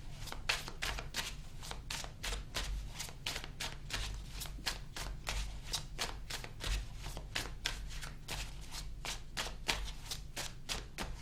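A deck of tarot cards is shuffled over and over, a quick, crisp riffling of cards repeating in a steady rhythm, close and fairly quiet, with no talking.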